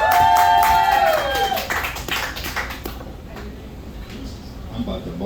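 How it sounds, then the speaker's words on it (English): Comedy club crowd at a burger restaurant clapping for a comedian, a loud burst of applause and cheering that fades over a few seconds, with a tonal sound early on and voices underneath. "Please give a big round of applause for Trey,"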